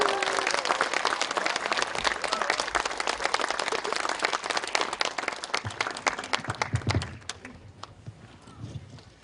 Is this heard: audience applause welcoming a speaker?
yes